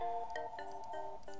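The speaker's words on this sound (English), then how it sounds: "My phone is ringing." A mobile phone rings with a bright, melodic ringtone: short repeating tonal phrases that rise and fall, steady and fairly close, with no one talking over it.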